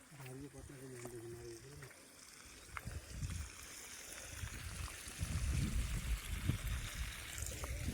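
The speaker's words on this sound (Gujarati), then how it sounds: "મોટર ચાલુ કરી દીધી છે." Water from a motor pump hose gushes and trickles into a farm tank, a soft, low splashing that grows louder after a brief stretch of talk at the start.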